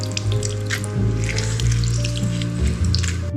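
Lemon juice squeezed out with a fork, wet squishing and dripping in a steady close-up stream over a low kitchen hum, with no one talking.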